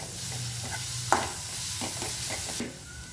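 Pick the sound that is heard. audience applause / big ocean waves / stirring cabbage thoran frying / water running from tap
stirring cabbage thoran frying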